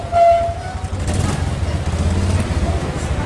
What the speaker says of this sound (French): Le klaxon, ça.